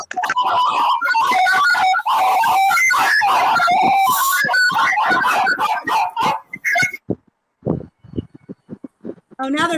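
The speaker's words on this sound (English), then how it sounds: "Sounds like a bunch of dogs yelping." A crowd of dogs yelping and barking in a dense, chaotic burst over a live online call connection, loud and continuous before cutting out abruptly, followed by scattered brief noises and talk.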